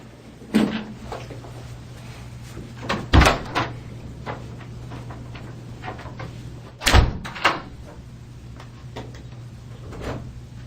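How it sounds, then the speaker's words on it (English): A door is slammed shut in a home during a heated domestic argument, two heavy bangs several seconds apart amid smaller knocks and rattles over a steady low hum, close and loud. "She storms out, slams the door"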